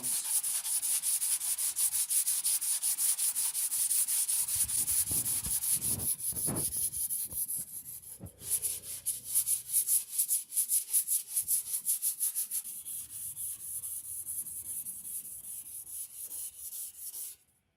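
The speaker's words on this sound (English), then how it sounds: "now our second layer has cured, and I'm going back to my coarser grit sandpaper" Coarse-grit sandpaper scrubs back and forth over cured body filler on a Buick, first as a continuous rasp and then in quick rhythmic strokes. The sanding is close and moderately loud, with no talking.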